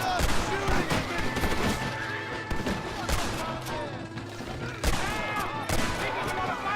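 Sustained gunfire fills a Red Dead Redemption gun battle, with dense, overlapping shots and sharp cracks that come in rapid volleys. Shouted voices sit under the constant shooting.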